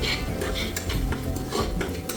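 Chili flakes and oregano are sautéed in a pan for white sauce pasta, with brisk clattering of a spoon against the metal pan in quick irregular strokes over a faint sizzle, close up.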